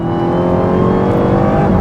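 Dodge Charger Hellcat Widebody on a mountain road, its supercharged engine droning loud and steady with a rough rumble as it slows under braking into a corner, close and alone without talk.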